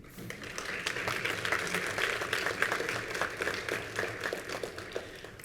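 An audience at an athletics alumni reunion applauds a Hall of Fame inductee, a steady, moderately distant patter of many hands clapping without pause.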